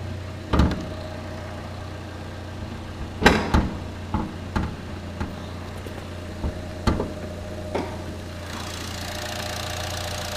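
A 2014 Buick Encore's 1.4-liter turbo engine idles under the open hood, a low steady hum broken by scattered clicks and thumps nearby, with no talk.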